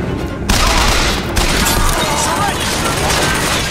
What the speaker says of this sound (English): Then yet another turret that's trying to kill me